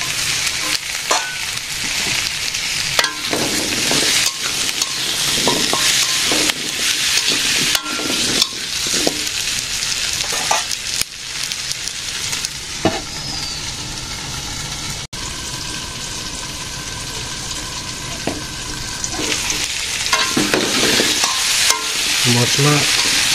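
Spices being stirred and fried in a pan in a village kitchen, with continuous sizzling broken by irregular scraping strokes of the spoon, close and fairly loud, with no talking.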